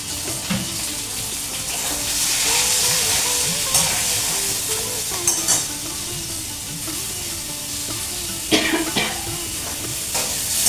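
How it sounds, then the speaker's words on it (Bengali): Pointed gourd (potol) frying in oil with salt in a pan: a continuous close sizzle with irregular scraping stirs and a few louder clatters of the utensil near the end, no talking. "লবণ দিয়ে পটলটা ভাজবো, তাহলে পটলটা খুব তাড়াতাড়ি নরম হয়ে যাবে।"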